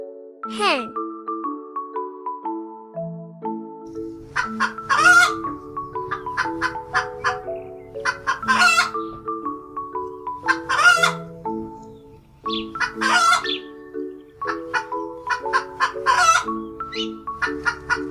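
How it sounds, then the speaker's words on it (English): A cartoon hen clucks in repeated short bursts with occasional squawks over a bouncy children's melody and a low rhythmic backing, as part of a farm animal learning song for toddlers. "hen."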